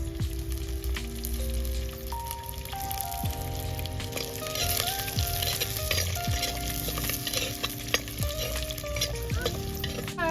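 Mustard seeds, curry leaves, garlic, green chillies and onion frying in oil for paruppu urundai kuzhambu, a constant crackling sizzle with scattered stirring clinks and a faint melodic tone underneath.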